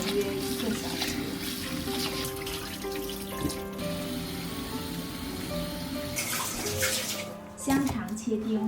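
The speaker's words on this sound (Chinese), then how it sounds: "大米淘洗干净" Rice is rinsed clean in a bowl of water, with a steady close swishing and running-water wash and a louder splash near the end; faint background voices are present.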